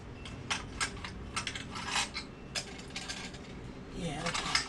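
Small clicks and ratcheting taps come close by as a screw is set and snugged on a slip-on exhaust being fitted to a 2008 Harley Sportster 883C, a scattered series of faint metallic ticks over a low background hum.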